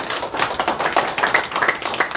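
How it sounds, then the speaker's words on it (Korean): Audience applause at a Korean press conference on a report about Confucius Institutes, a dense steady crackle of many hands clapping together for about two seconds, fairly loud, with no talk over it. "여러분 박수 한번 다시 부탁드리겠습니다"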